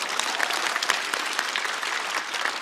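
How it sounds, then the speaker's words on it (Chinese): Dense applause from a studio audience at a roast-style comedy show runs steady and loud throughout, with scattered sharp claps standing out from the mass. "掌声鼓励一下"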